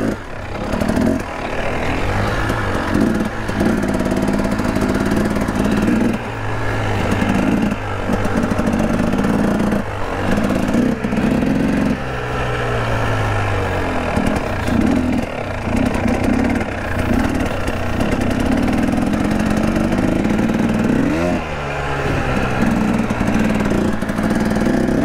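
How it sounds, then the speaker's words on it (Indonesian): A Husqvarna TX300 trail motorcycle engine idles with a rough, steady putter, briefly revving up a few times before settling back, close and loud throughout. "asli tenaga ini motor gede banget, tapi enteng"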